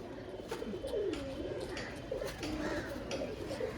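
A matched pair of owl-faced pigeons, a rare short-beaked breed, coo in repeated low rolling phrases close at hand, a steady murmur with no one speaking.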